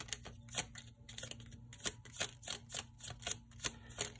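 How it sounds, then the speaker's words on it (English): Small tarot cards are shuffled by hand in a run of quick, crisp riffling clicks and soft slaps, close and fairly quiet, with no talking. "These small cards are difficult to shuffle."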